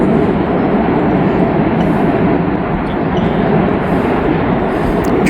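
Freight train with a DPU locomotive crossing a very old bridge, a loud, continuous close-up rumble and roar of rolling cars that stays steady the whole time.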